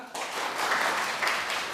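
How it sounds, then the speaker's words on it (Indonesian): High school students in a classroom clap together briefly, a short burst of scattered hand claps rising after a quiet start. "tepuk tangan untuk semua"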